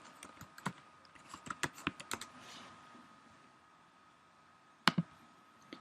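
Typing on a laptop computer keyboard: irregular bursts of light clicking keystrokes, moderately close, with a pause before a final pair of sharp taps; no talking.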